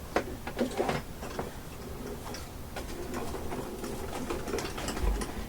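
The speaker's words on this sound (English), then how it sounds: "And then you run it through the machine." A Spellbinders Grand Calibur die cutting and embossing machine runs with a faint, steady mechanical ticking and clicking, low and close without any talking.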